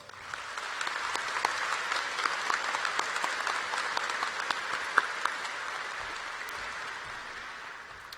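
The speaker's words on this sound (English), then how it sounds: "Let's welcome them with our applause." At the 2018 Grapevine High School graduation ceremony, a large audience claps in a sustained, even wash of applause that holds at a moderate distance and slowly tapers toward the end.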